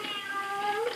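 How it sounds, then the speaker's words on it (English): A single drawn-out cat meow just outside a door, close and clear with a rising, wavering tone lasting about a second, heard in an old radio drama. "Oh? Cat. The neighborhood is cat full."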